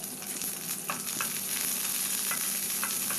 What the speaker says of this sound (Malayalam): അര ടീസ്പൂൺ കടുക് ചേർക്കാം ഇതിലേക്ക് കുറച്ച് വേപ്പിലയും നീളത്തിലരിഞ്ഞ പച്ചമുളകും കൂടി ചേർത്ത് കൊടുക്കാം എന്നിട്ടൊന്ന് വഴറ്റി കൊടുത്തൊന്ന് വാട്ടിയെടുക്കാം